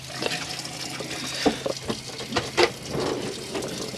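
Water runs from the kitchen tap of a Hymer Exsis I698 motorhome in a steady hiss, with a few brief splashes and knocks rising over the flow.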